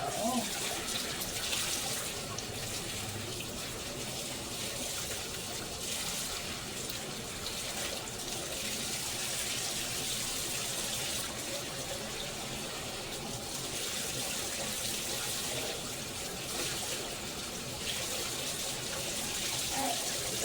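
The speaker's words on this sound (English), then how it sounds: "I think I'm just going to make some rinse water and have it sitting in rinse water" Tap water runs steadily into a basin to make rinse water for hand-washed laundry, a continuous close splashing flow lasting throughout with no pauses.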